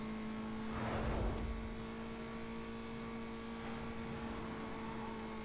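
A Chevrolet's engine accelerating in the racing game Need For Speed Most Wanted, heard as a faint, brief swell of revving near the start over a low steady hum, with no voices.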